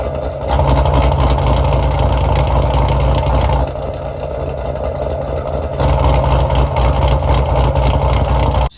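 A 2019 C7 Z06 with a Magnuson 2650 supercharger (870whp) idles, exhaust in stealth mode, with a steady, deep low rumble and a muffled exhaust tone, close by and continuous, with no voices.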